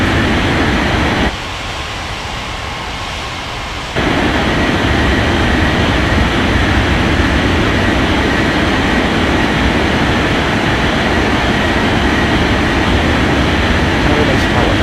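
An airliner on its takeoff roll in Unmatched Air Traffic Control, a loud, steady broadband jet roar that drops briefly and then returns at full strength, continuing throughout.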